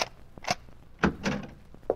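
Radio drama door being opened: a quick series of sharp knocks and clunks, a latch and a creaking swing, close and crisp with no talk.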